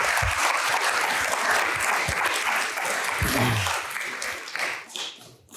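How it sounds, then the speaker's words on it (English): An audience at an award ceremony applauds with sustained clapping from a crowd, dense and steady before thinning out toward the end. "Big round of applause for our first winner."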